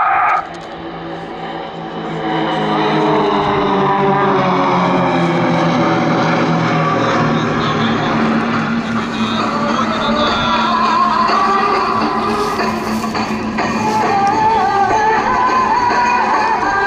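Four propeller aircraft fly a slow roll in box formation at an air tattoo, their engines a loud sustained drone that swells in after a quieter start and holds with shifting pitch throughout.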